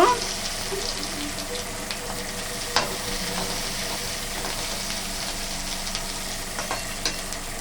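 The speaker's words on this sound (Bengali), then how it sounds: "এবার একটা পেঁয়াজ ভেজে নেব।" Onion frying in oil in a pan while cooking a fish and pumpkin-leaf bhorta, a steady moderate sizzle with occasional stirring clicks throughout.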